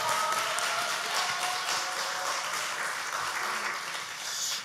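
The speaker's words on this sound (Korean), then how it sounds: "박수." Congregation applauding during a Sunday afternoon church service, a steady wash of many hands clapping together for several seconds without talk, moderately distant.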